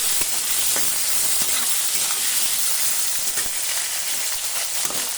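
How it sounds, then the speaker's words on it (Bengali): Chopped potatoes dropped into hot oil and frying, a continuous loud sizzling hiss with faint crackles, steady from start to finish. "তেলটা গরম হয়ে গেছে, দুটো আলু কুচি দিয়ে দিলাম"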